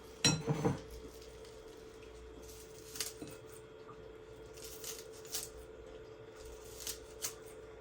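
A knife cuts food for a baked sausage corn dip into a bowl, giving a quick cluster of sharp clicks and taps at the start, then a few sparse, fainter knocks over a low steady hum.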